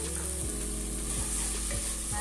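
Tomatoes go into frying ginger garlic paste for a paneer peas masala, giving a steady close sizzle broken by a few rhythmic low spoon scrapes against the pan.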